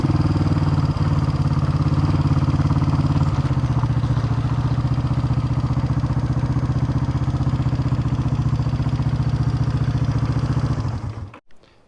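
Idling 1971 Honda CB350 twin in candy gold, reportedly low on compression, running with a steady, even mechanical clatter close by for about eleven seconds before cutting out, no talk over it.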